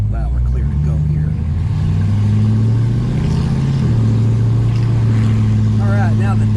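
A 1964 Dodge Polara 500 big-block car drives and accelerates, its deep engine drone climbing steadily before a gear change drops the pitch, then rising again, loud and close from inside the car.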